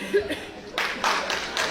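A French comedy-club audience bursts into short applause after some chuckling, a few seconds of close, fairly loud clapping in uneven bursts.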